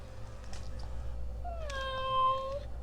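Robot kitty toy cat giving a single drawn-out electronic meow with steady harmonic tones, close and fairly loud over a low background hum.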